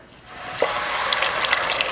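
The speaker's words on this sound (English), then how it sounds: "And you wanna cover these with water." Water is poured over rinsed lentils in a pot for Afghan barley soup, building from a soft trickle to a steady splashing fill with small bright drips and bubbles.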